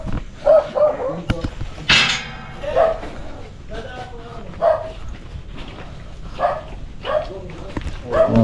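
A big dog barking in repeated sharp barks spaced a second or so apart, fairly close, mixed with people talking nearby outdoors.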